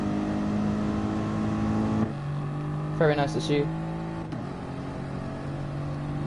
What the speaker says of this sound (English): The Mercedes safety car.